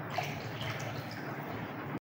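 Water pours steadily into a cooking pot, about three and a half glasses measured out for boiling rice alongside masoor dal, a continuous close splashing and trickling wash that stops abruptly.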